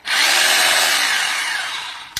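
A rotary hammer drill for masonry runs in hammer mode with a loud, continuous buzzing motor that fades slightly, then stops with a brief click at the end.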